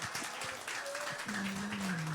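Congregation in a church applauding together, a steady wash of many hands clapping at moderate loudness with voices and a sustained tone running beneath.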